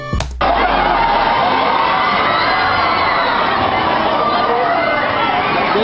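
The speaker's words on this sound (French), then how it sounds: "Ces sons de chaos, ces cris de terreur, de panique générale ne sont pas ceux d'une scène de guerre." A crowd screams and shouts in chaos and panic, played back from a YouTube video on a computer: a dense, loud, continuous wall of overlapping cries and yelling that begins right after a brief click.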